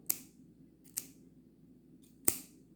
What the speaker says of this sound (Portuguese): tesoura do Wolverine, né?